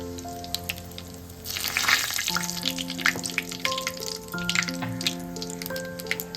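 Dried red chili, black cumin and bay leaf dropped into hot oil in a pan that has just fried eggplant, breaking into a crackling sizzle after a quieter start, with sustained tones running underneath.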